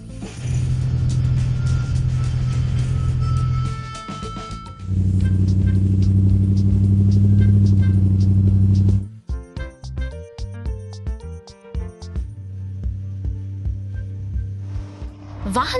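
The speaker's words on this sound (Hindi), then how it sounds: "वाहन सड़क पर यात्रा कर रही हैं" Vehicles driving along a road, a steady engine drone with a heavier rumbling section, then clattering mechanical knocks and a lighter motor hum, loud and near throughout.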